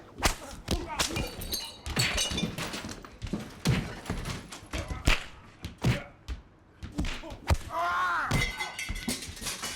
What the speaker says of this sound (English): The noise of corporal punishment.